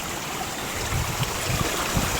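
Clear spring-fed stream water flows steadily down a watercourse, a continuous close rush and burble with low gurgling pulses, no voices.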